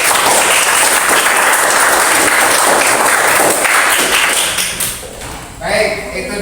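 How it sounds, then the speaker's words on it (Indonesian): Loud, sustained clapping from a school class fills the room, then tapers off with a few voices near the end. "Oke, tepuk tangan."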